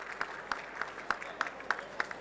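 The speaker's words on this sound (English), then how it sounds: "Please give him a big round of applause" An event audience applauds steadily, with individual claps rising out of a moderate wash of clapping in a fairly regular rhythm, heard from a short distance.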